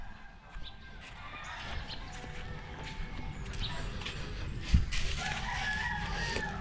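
Chickens crowing and clucking in an open outdoor setting, at a moderate distance, mixed with a steady background hiss and scattered faint activity noises.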